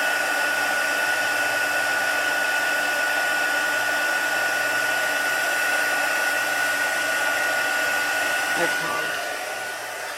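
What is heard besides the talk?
heat gun melting embossing powder for heat embossing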